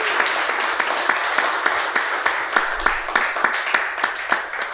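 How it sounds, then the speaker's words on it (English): Audience at a tech talk on Aptos design patterns gives the speaker a round of applause, continuous clapping with distinct sharp claps standing out at a fairly regular pace, close and steady throughout. "First, a round of applause for Varun."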